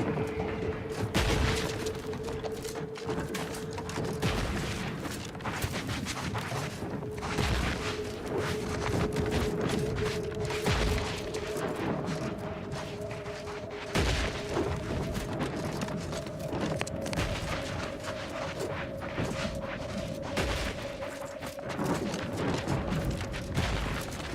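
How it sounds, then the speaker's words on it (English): Missiles fired and exploding during a firefight in The Outer Worlds 2, a long stretch of repeated booms and gunfire bursts at moderate distance over a low steady hum, without talk. "Somebody's shooting missiles at me."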